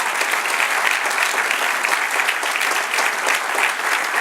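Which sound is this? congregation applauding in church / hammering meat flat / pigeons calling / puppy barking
congregation applauding in church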